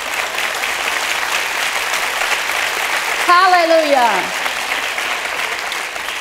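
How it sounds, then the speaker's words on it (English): A church congregation applauds with steady hand claps, a dense wash of clapping from a crowd. Midway a voice rises over it with a long sung or called exclamation. "Give the Lord a hand clap"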